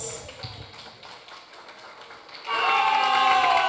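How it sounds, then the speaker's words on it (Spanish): Loud applause from a party audience at a 50th birthday celebration suddenly swells into sustained, dense clapping that holds steady to the end, after a quieter stretch of murmuring and light shuffling. "le brindamos los aplausos"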